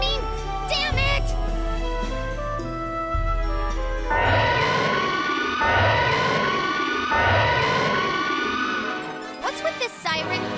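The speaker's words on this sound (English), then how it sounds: "What's with this siren?" A wailing siren in a Disgaea 4 video game cutscene, rising and falling in repeated sweeps that start after a few seconds of music and fade near the end, loud against the background score.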